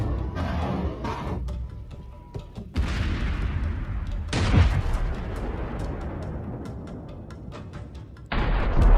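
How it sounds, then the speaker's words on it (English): An MLRS rocket launcher fires in combat, a rolling series of heavy booms and whooshing blasts with sharp onsets, loud and sustained over several seconds, with distant rumbling between salvos. "The MLRS is now firing."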